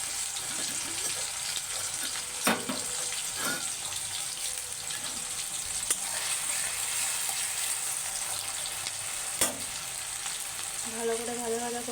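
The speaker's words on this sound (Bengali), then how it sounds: "ভালো করে ভাজা ভাজা করে নেবো পেঁয়াজটা।" Chopped onion fries in a wok with a touch of sugar, giving a steady close sizzle throughout, broken by a few sharp clinks of a utensil against the pan.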